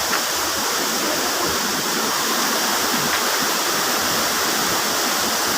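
Kalanay Falls pours down with a loud, constant, close rushing roar of falling water that fills the whole moment without a break.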